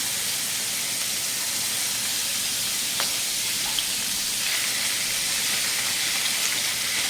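Carrot, coconut, capsicum and paneer, cut small, fry in oil in a kadai with a bay leaf and a dried red chilli. A steady sizzling hiss runs throughout, close and even, and nobody speaks over it.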